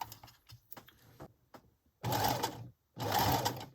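A sewing machine stitches a fabric seam in two loud, close bursts of about half a second each, with quieter handling clicks and rustles before them.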